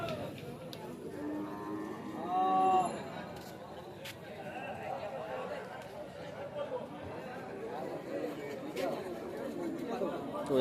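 Cattle at a busy livestock market, with one drawn-out cow moo rising briefly over a constant wash of crowd chatter and people talking nearby.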